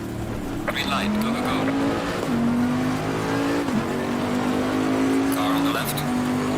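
A GT3 race car in Assetto Corsa Competizione accelerates off the line, its engine note rising and dropping through several quick upshifts, with other cars around and a voice talking over it.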